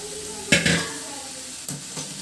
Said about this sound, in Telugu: ఇది కూడా ఒక 2 నిమిషాలు ఆయిల్లో వేగాలండి